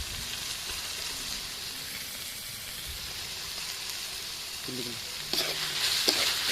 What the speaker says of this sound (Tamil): நம்ம வந்து நசுக்கி வச்சுருக்கிற இஞ்சி பூண்டை தான் நம்ம அடுத்து சேர்க்க போகிறோம்